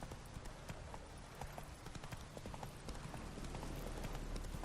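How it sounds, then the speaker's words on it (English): Hooves of Roach, a horse in The Witcher 3 video game, clop in a steady galloping rhythm across the meadows of Velen, continuous and fairly close under ambient game sound. "Riding my horse through the meadows of Velen."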